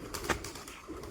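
A pigeon gives a brief soft coo, quiet and close, in a village mango orchard setting, with low background noise and no talk.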